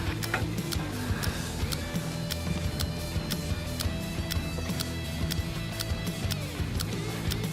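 An STRwrench electronic torque wrench tightens a bolt in a test lab, producing a steady mechanical whir overlaid with evenly spaced sharp clicks in a regular rhythm, close and continuous, with no voices.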